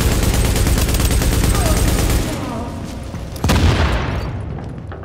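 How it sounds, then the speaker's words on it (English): Machine gun fire in The Division video game: loud, dense rapid firing that stops suddenly, then one heavy booming impact rings out and fades. "Fucking reload the machine gun"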